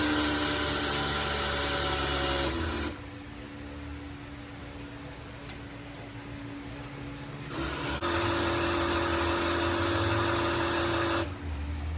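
A small block Chevy 350 engine runs loud and rough, then drops to a lower, quieter running state for several seconds before surging loud again, with a steady, knocking mechanical drone.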